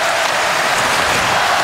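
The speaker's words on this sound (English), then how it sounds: "This crowd has been going all night long." A hockey arena crowd at a 2013 NHL playoff game between the Red Wings and Ducks roars and applauds in a dense, steady wash of cheering that fills the whole stretch without a break.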